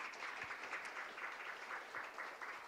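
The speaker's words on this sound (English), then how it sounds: "I would ask you to give them a round of applause for the research that they've done." Audience applause for researchers at a conference panel event, a steady wash of many hands clapping throughout, moderately distant and even, with no voices over it.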